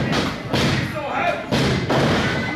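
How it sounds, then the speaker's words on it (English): A pro wrestler is scooped up and slammed hard onto the ring mat during a POWW match, giving heavy, booming thuds and impacts amid crowd noise, with an announcer talking over them. "Cairo now, scooped up, slammed hard to the mat."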